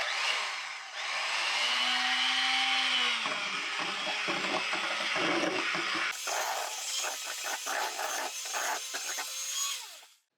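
Electric mixer whirring as vanilla is beaten into pumpkin cake batter, a steady motorized buzz that shifts pitch and grows busier with rubbing, scraping texture before cutting off.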